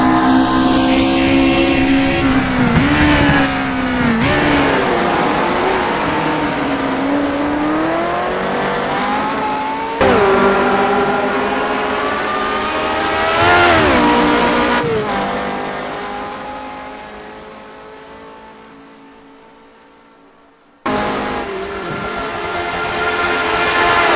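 Race car engine in the racing game rFactor 2 on a road course, loud and close, revving up through successive gear changes with sharp drops in pitch between climbs, then easing off and fading before picking up again.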